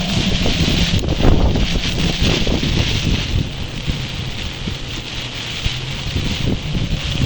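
Cyclone wind and rain lash the flooded shoreline at Thondaimanaru, bending the mangroves; a continuous loud roar of gusts and rain hits the microphone close up, with no voices.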